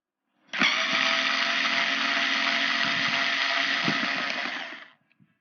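A budget Tuoye cordless screwdriver spins in reverse, a single steady whirring motor burst lasting about four seconds before cutting off, followed by faint clicks.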